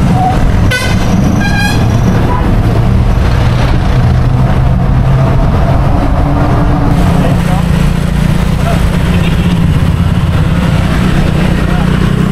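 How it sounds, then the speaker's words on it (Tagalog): Car horns honk amid heavy traffic on Commonwealth Avenue in Quezon City, with a couple of short toots early on over a constant loud engine rumble and road noise. "Rinig nyo naman yung busina."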